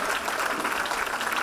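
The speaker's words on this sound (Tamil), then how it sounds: "நல்ல கைத்தட்டி இந்த பிள்ளைகளை வாழ்த்துவோம்" Applause from a church audience for children performing at a Christmas program, a steady dense patter of clapping with no voices.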